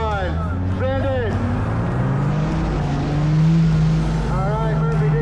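Several off-road race vehicles rev hard and accelerate together off the start line, a loud continuous engine roar that rises in pitch, with a commentator talking over it throughout.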